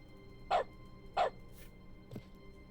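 Two sharp, clipped dog barks ring out close and clear, then a softer third yelp after a short pause, from a game's Dog Mode in The Stanley Parable: Ultra Deluxe, set in an office meeting room.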